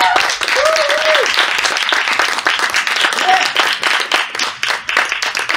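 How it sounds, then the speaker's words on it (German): An audience at a youth poetry slam festival from Dortmund claps loudly for a poet, a dense wash of many hands with a few whoops and cheers rising over it, thinning into choppier bursts near the end. "Macht bitte einen fulminanten 33-Punkte-Applaus für Ellie!"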